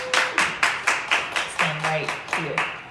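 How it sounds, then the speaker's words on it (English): Audience clapping for a speaker at a personal branding talk, a slow, evenly spaced rhythm of distinct claps, roughly a dozen in a row, with voices speaking over them. "Let's give Brian a round of applause."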